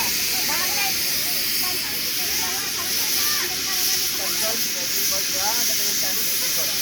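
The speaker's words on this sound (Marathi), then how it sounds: "सुरमई मस्त फ्राय करत लावल्या." Surmai fish frying in a pan at a family outing in Alibag, giving a steady close hiss and sizzle throughout with faint birdlike chirps and voices in the background.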